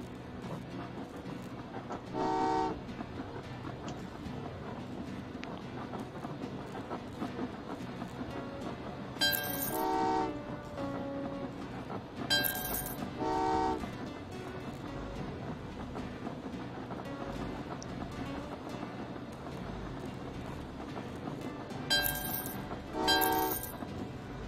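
Trains rumble along tracks in the railway game Train Valley 2, with short two-tone horn toots sounding several times over a continuous low mechanical bed and soft game music, no talking.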